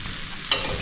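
Chana dal vadas deep fry in hot oil with a steady bubbling sizzle, and a couple of sharper crackles stand out near the end of the short burst.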